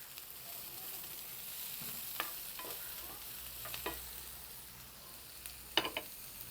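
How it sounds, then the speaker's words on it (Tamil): Onions sautéing in a pan for a paneer curry, a soft continuous sizzle with occasional stirring scrapes and a couple of sharper clinks near the end, quiet and with no talk. "வெங்காயம் கொஞ்சம் வதங்கட்டும்"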